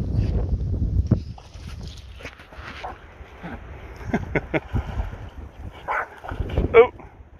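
Small dogs, including a Yorkie, yip, whimper and scamper near water during an outdoor walk, with irregular short bursts over rustling footsteps and occasional talk from a man.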